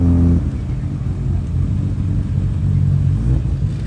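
A Nissan RB-engined car at a JDM car meet in New Zealand rumbles with a deep, steady idle and a few light revs, loud and close, with no talking.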